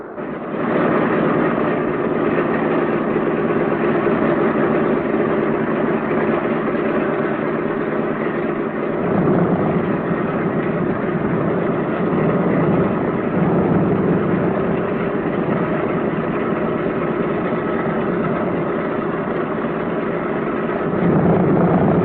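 Several B-17 bomber piston engines run together in a loud, continuous, droning roar close by, with a rougher low-end surge joining partway through and again near the end.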